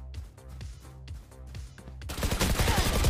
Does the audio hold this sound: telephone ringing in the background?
no